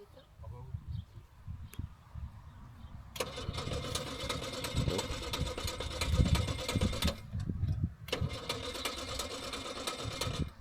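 A prestige convertible car at a château rally starts its engine and settles into a steady idle, the motor catching abruptly and running loud and close, with a brief cut and restart and people talking nearby.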